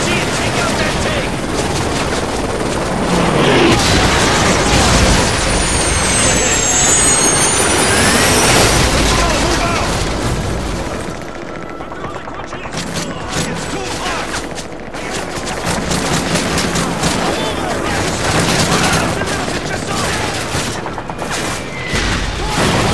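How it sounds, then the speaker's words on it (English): Heavy gunfire and booming cannon blasts from a T-90 tank and infantry weapons in a Call of Duty: Modern Warfare 3 battle on a bridge, a dense continuous roar of fusillades, explosions and rumble with no pauses. "we have Russian armor firing on the bridge"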